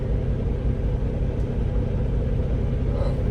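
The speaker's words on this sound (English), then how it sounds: "Sound like some thunder or something." Distant thunder heard under clear skies, a continuous low rumble that rolls steadily through the whole stretch alongside road and engine noise.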